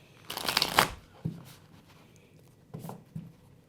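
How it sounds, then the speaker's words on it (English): A quick riffle shuffle of tarot cards up close, followed by a couple of soft taps and a second brief shuffle, with no speech. "All right, we're going to shuffle one more time."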